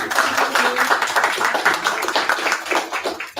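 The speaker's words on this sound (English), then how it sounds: "give a clap or two to our moderator tonight" An audience at an evening event claps for the moderator: a dense, sustained round of applause from many hands, close and loud, rippling steadily for a few seconds without voices.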